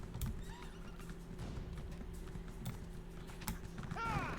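A horse in The Elder Scrolls Online gallops with steady clip-clopping hoofbeats and whinnies near the end, quiet and close, over a faint low game hum.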